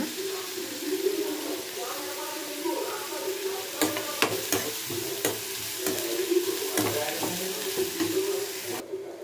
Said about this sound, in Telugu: ఇలా గుడ్లు తీసేసుకున్నాక ఆనియన్స్ అయితే వేపేసుకోవాలండి బాగా.